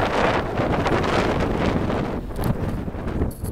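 Steady wind buffets the microphone while sailing on open water during a Saturday sailboat race, a continuous broadband rush with slight gusting and faint splashes, no voices.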